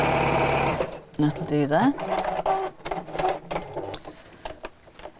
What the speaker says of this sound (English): So I'm going to sew across the bottom, but only about 6 or 8 inches or something like that.